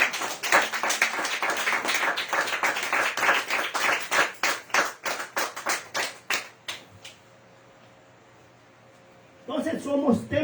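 A church congregation claps in praise during a Spanish-language sermon, a run of sharp, fairly close hand claps that thins out into scattered claps and stops, with a few seconds of near quiet before a voice starts up at the end.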